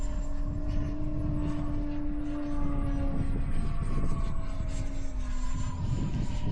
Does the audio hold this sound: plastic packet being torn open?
no